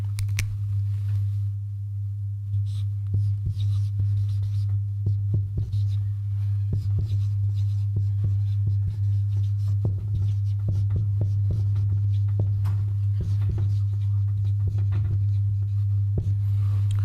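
Marker or chalk scratching on a board during an English grammar lesson, faint intermittent strokes and taps running under a loud, steady electrical hum.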